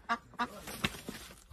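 Duck calling near crocodiles, a few short honking quacks in quick succession, fairly close, with faint background noise.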